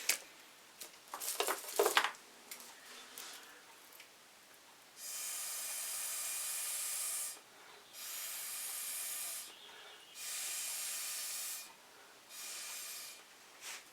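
Breath blown onto wet acrylic paint to spread cell activator: a few close, airy hissing blows of a couple of seconds each, separated by short pauses, after some faint handling noises at the start.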